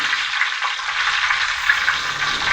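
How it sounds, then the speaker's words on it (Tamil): Mustard seeds crackling in hot oil in a pot, a dense, even sizzle with faint pops, steady and close for a couple of seconds with no voices. "கடுகு நல்லா பொரியட்டும்"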